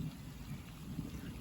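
Steady rush of heavy rain with a low rumbling undertone of thunder, dense and continuous throughout, near a bridge at Mangla Dam.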